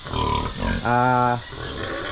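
A pregnant pig grunts and squeals loudly at close range, with a brief harmonic squeal in the middle amid snuffling noises.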